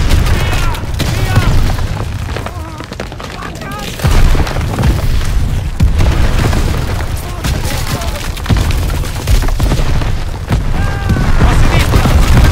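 Artillery shells burst in Call of Duty: WWII, heavy booms rolling in every few seconds amid gunfire and shouting soldiers' voices.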